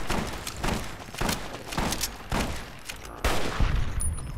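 Heavy weapon gunfire in Fallout New Vegas at Black Mountain, a steady series of loud punchy shots in rapid rhythm, close and dominant, with no talk over them.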